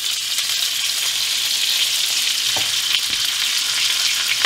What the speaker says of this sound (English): And we're going to let that fry.